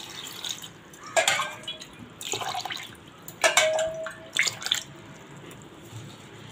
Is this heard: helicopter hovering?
no